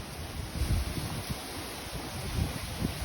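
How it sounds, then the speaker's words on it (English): Strong wind gusts outside a greenhouse in California, a continuous rushing roar with low rumbling buffets that swell and ease, heard from inside. "You guys, can you hear that wind?"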